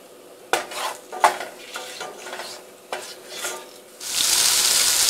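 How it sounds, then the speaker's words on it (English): Whole cardamom, cloves, bay leaves, cinnamon and peppercorns are stirred in a pan with scattered scraping clinks, then a loud, steady sizzle of frying rises and holds. "you're just going to let this pan fry for about a minute"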